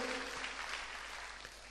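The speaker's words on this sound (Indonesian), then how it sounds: "Tepuk tangannya paling meriah buat Tuhan." Congregation applause in an Indonesian church service, a faint, steady wash of clapping heard from a distance through the room for a short moment.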